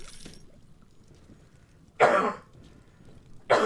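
Throat clearing and coughing from a person, two short harsh bursts a second and a half apart over a quiet background.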